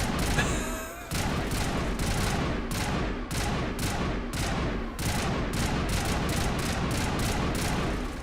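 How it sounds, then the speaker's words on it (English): Gun firing in the video game Mass Effect, a loud rapid stream of repeated shots in a steady burst rhythm, dense and continuous across the whole stretch. "It's very noisy, this gun"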